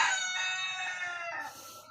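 A red junglefowl (labuyo) rooster lets out a single loud, close crow, its strained call rising and then trailing off over about two seconds with no voices.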